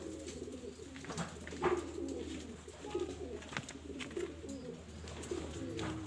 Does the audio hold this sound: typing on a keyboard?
no